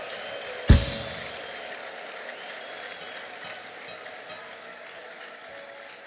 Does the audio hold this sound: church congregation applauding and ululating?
yes